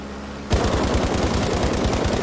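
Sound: gunfire in video game Battlefield Mobile

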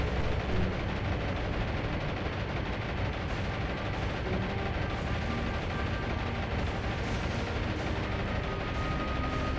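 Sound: bombs exploding on ships in War on the Sea video game

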